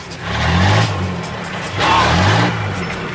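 A drifting car on an icy road, its engine revving up loudly in two long surges about a second apart, with faint voices underneath.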